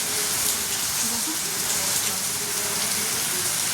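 Rain pouring down steadily outdoors, a dense, even hiss of drops falling on surfaces, fairly loud with no pauses.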